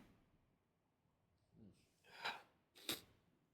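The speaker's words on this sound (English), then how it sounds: "I sneeze." A reader sneezes once up close, a short breathy intake rising into a sharp, bright burst, followed by a second forceful snort-like exhalation, all in quiet surroundings.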